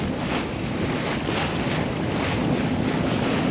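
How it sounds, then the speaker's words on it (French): Strong wind roars continuously across the microphone on a boat leaving Loch of Fort Saint-Georges, Scotland, a steady broadband rush with faint water and engine noise underneath, no voices. "Les vents sont très instables"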